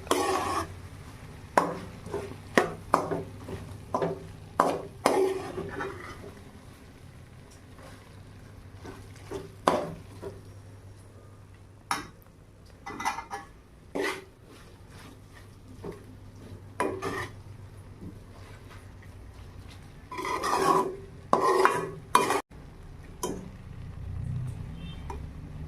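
A spoon stirs chicken liver pepper fry with coriander and curry leaves in a pan, giving irregular scraping and clinking strokes close up, with quiet gaps between bursts and no talking.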